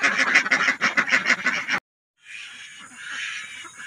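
Ducks on a duck farm quack in a rapid, loud chorus of repeated calls, which stops abruptly; after a short silence, fainter, softer calling and hissing follow.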